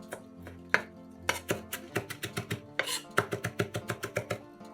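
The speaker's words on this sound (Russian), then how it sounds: "Измельчаем небольшой пучок петрушки." A kitchen knife chops a small bunch of parsley on a board in quick, close, crisp strokes, pausing briefly before settling into a steady rapid rhythm.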